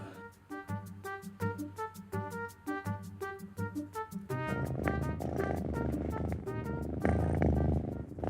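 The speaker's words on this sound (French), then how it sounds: "Là, j'écoute son ronron avec mon stéthoscope. C'est très très fort." A cat's close, low rumbling purr heard through a stethoscope, at first a steady series of pulsed strokes, then blending into a denser continuous rumble.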